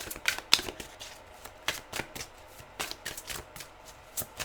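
Tarot cards being shuffled by hand at close range, a steady run of crisp riffling flicks and soft slaps repeating evenly throughout, with no voice over them.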